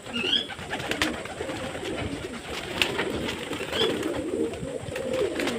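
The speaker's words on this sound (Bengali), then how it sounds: "পায়রাগুলো কতটা আনন্দ সাথে জল খাচ্ছে" Pigeons coo repeatedly on a rooftop while drinking water, a steady layered murmur of soft throaty calls at close range with no talking.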